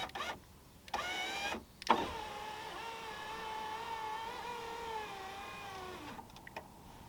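The repaired electric window regulator on a VW Polo whirs as it drives the glass, a steady motor hum lasting several seconds with clunks at the start and a stop near the end, close and fairly quiet.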